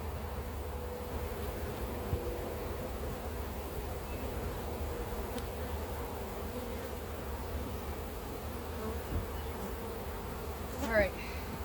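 Dense swarm of honey bees buzzing around an open beehive during a beekeeping inspection, a steady close drone filling the whole stretch with no talk.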